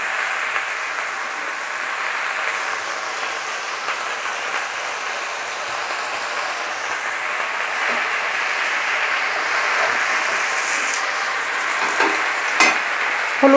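Chopped spinach frying in a pan while being stirred, a steady close sizzle with soft scraping stir strokes throughout, getting slightly louder toward the end.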